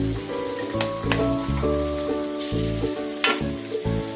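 Water hyacinth and spice paste stir-fried in a pan give a steady, close sizzle throughout, with stirring scrapes over a background of music.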